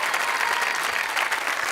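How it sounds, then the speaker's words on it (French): A TV game-show studio audience gives a brief burst of thick, continuous applause, steady and fairly loud for under two seconds. "je voudrais qu'on applaudisse très fort"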